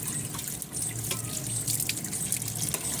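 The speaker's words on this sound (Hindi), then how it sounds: "हम अब बर्तन धो रही है वो भी दिखाती हूँ आप सबको" Tap water runs steadily into a kitchen sink as dishes are washed by hand, a close, continuous splashing stream with a few light clinks and no talking.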